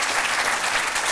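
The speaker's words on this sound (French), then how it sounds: "On peut encore applaudir nos deux invités." A TV studio audience claps for two guests in a brief, dense burst of applause that stays even and full throughout.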